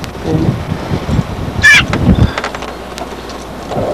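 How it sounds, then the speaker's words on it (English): Agitated mother bird nesting in a barn gives a short, loud burst of harsh honking calls midway, over wind noise and rustling outdoors. "There's that pissed mama bird."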